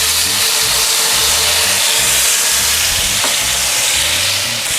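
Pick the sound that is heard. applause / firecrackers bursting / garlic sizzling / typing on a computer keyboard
garlic sizzling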